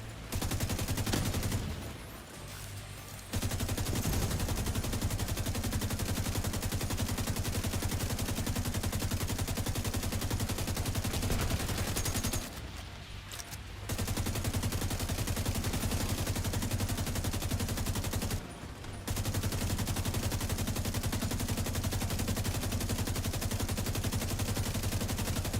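Sustained automatic gunfire in The Division 2, a dense continuous rattle of rounds with three short pauses between long bursts, loud and steady throughout with no talking.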